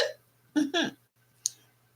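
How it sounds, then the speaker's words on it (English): A person hiccups, with a sharp voiced burst followed by a second gulping catch, then a faint click, all close up over a low steady hum. "I have hiccups."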